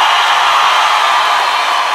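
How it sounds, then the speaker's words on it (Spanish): Loud, continuous applause from a studio audience on a Colombian comedy show as the second contestant is honored; an even, unbroken wash of clapping throughout, with no talk on top. "Un aplauso por Fabián"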